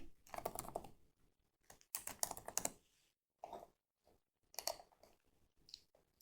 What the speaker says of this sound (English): here in the source, I will simply type in the name of the name range